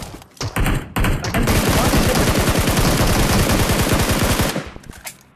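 Sustained automatic gunfire from a shooting video game during a squad fight at a bridge, a dense rapid stream of loud shots lasting several seconds after a couple of brief opening bursts, then cutting off abruptly.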